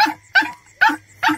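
A puppy that has fallen into a pit cries out in four short, evenly spaced whimpering yelps, fairly close and loud, with no one speaking.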